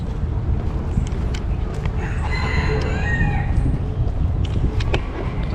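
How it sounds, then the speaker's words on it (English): A rooster crows repeatedly amid other fowl in a park in São Paulo, Brazil, its calls rising over a steady broadband outdoor background, with occasional clucks and hoof-like clops nearby. "I know you're gonna hear all the roosters making their noises and stuff."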